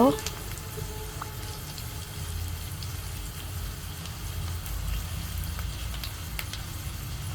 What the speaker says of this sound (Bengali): দুইটা তেজপাতা একসাথে একটু ভেজে নেব